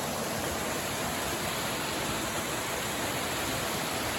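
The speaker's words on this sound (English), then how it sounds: "And over here we've got a different waterfall." Steady broadband rush of a waterfall at Coast Miwok Redwoods Preserve on the California coast, continuous and close with no gaps and no voices.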